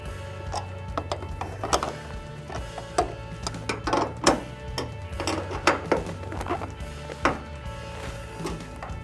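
A ratchet clicks in rapid, irregular runs while tightening bolts on the bumper end caps of a Ram 2500 Cummins diesel pickup, close up, with metallic knocks and a low steady hum underneath.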